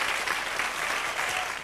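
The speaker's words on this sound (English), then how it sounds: "Give Dan a big round of applause" Studio audience at a game show applauding, a dense, even burst of clapping from a crowd that stays steady throughout the short stretch.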